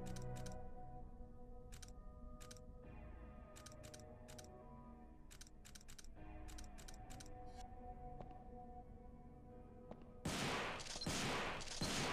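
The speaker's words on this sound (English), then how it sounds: "that's the same kind of sound effect of the shotgun that was used in Resident Evil 2 with the custom shotgun" In Devil May Cry, quiet ticking game sounds run for several seconds, then a loud, harsh shotgun blast erupts near the end, with a second crack right behind it.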